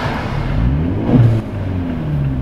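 Fiat drift car engine fitted with a new intake and blow-off valve, a loud close rev that swells briefly and then drops back to idle.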